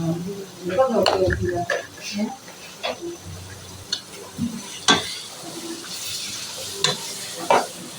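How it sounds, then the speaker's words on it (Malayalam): Onions sautéing with salt in a pan give a soft sizzle, broken by clinks and scrapes of a spoon against the pan, while someone talks at times over the cooking. "ഉള്ളി വഴറ്റിയെടുക്കാം കേട്ടോ"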